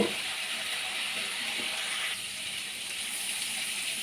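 Yardlong beans frying in hot oil in a home kitchen give a steady, close sizzling hiss that continues evenly throughout, with no talk over it.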